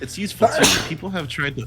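A single sharp human sneeze bursts out mid-conversation, loud and close, with people talking just before and after it.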